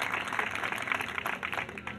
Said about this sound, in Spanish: quiero un aplauso muy grande para Claudia